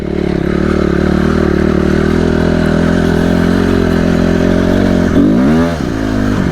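A motorcycle rides on a maneuvering lot during first wheelie attempts, its engine droning loud and steady up close, then rising and dipping in pitch with a revving surge near the end.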